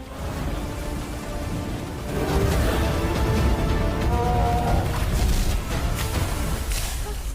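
Rain summoned to douse a fire in an Indian film, a steady broadband wash of downpour that swells louder after the first two seconds, with rumbling low-end booms mixed in and no speech.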